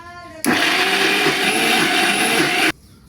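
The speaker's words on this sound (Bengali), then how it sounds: "হয়ে গেল সম্পূর্ণ মশলা ব্লেন্ডার করা" An electric blender grinds ginger and garlic into paste, starting abruptly with a loud, steady high-pitched whir that runs for about two seconds and then cuts off sharply.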